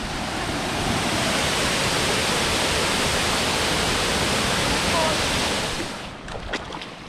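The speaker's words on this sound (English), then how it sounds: "Actually, this waterfall is just trickling." A small waterfall in Philippine nature trickles and rushes steadily, a broad hiss of falling water heard close and continuous, easing slightly near the end.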